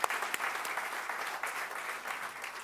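Conference audience applauds in a steady wash of clapping that holds at moderate loudness throughout, with no speech over it.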